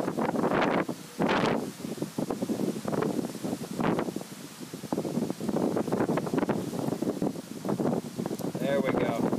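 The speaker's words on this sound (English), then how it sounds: "Now we got some decent wind coming through." Wind gusts outdoors beside a small homemade Savonius vertical-axis wind turbine, blowing across the microphone in loud, rough bursts that rise and fall repeatedly.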